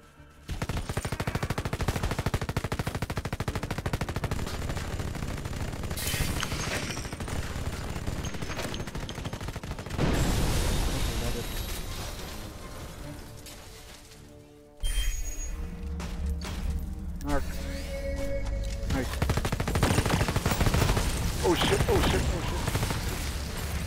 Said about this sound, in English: Reaper turret.